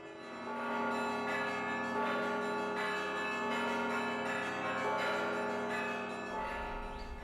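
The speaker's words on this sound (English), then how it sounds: "film the cathedral's bell ringing" Large cathedral bells ring continuously with overlapping resonant tolls, rich in lingering overtones, loud and close throughout.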